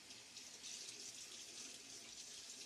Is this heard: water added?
yes